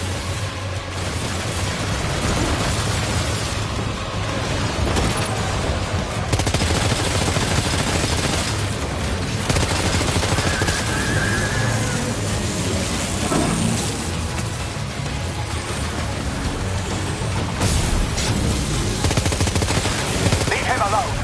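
Rapid bursts of automatic gunfire rattle through a Death Stranding 2 battle, dense and repeated in clusters over a steady rain-like wash, close and sustained throughout.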